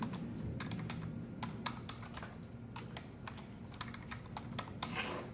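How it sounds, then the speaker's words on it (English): Keystrokes on a computer keyboard entering a password during a Windows Server 2016 install, a quick series of close, crisp clicks in an irregular typing rhythm over a steady low hum. "We'll type our same password we've been using."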